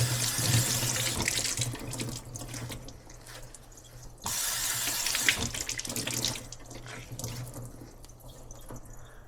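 Tap water running onto a cheesecloth at a kitchen sink: a steady close hiss and splash of flowing water that shifts in intensity as the cloth is moved under the stream, with dripping.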